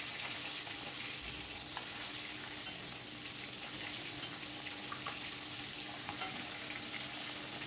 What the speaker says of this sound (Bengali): তেলটা যখন বেশ গরম হয়ে গেছে, তখন মিডিয়াম টু হাই ফ্লেমে রেখে আমি মাছগুলোকে ভেজে নেব।